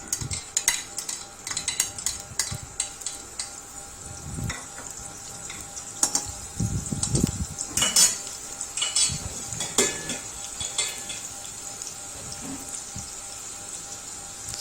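Onions frying in hot oil for a bhindi sabji, a steady bubbling sizzle close by, punctuated by scattered clinks and scrapes of a spoon stirring against the pan.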